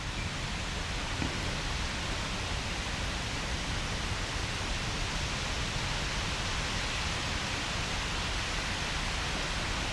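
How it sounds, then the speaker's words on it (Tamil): Steady rain falls outdoors, a dense continuous hiss with no breaks or voices, even and moderately loud throughout. "என்ன சவுண்ட் அது? காற்றா மழையா? மழை."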